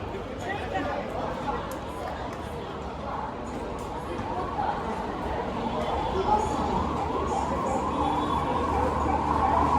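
An ambulance siren wails at Secunderabad railway station, half-buried in a steady crowd murmur and voices, rising slightly toward the end.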